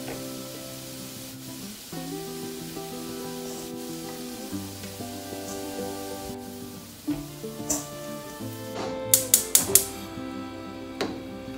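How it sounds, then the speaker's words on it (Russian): Chopped onion fries in vegetable oil in a frying pan, a steady close sizzle under background music, with a few sharper crackling bursts near the end. "В сковородку наливаем растительное масло и первым жарим лук."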